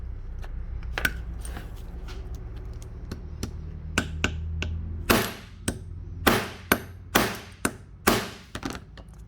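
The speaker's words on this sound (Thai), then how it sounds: "เดี๋ยวผมจะตอกให้ดูนะครับ" A hammer strikes steel letter punches into a seed phrase steel plate held in a jig, with five or six loud, sharp metallic blows in an uneven rhythm after softer taps and handling noise.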